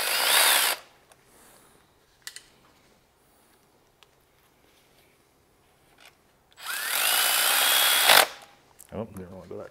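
A power tool drives short screws into a ZF 6HP19/6HP26 transmission from a BMW X5 during a solenoid install: a loud whirring burst, quiet clicks and handling, then a longer whir ending in a clunk, with faint talk after.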